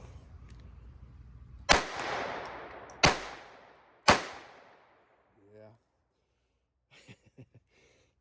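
Three sharp, loud reports from an HK4 pistol firing .22 hollow point rounds, each shot followed by a long ringing decay and spaced about a second apart, then brief handling noises and a few quiet spoken words.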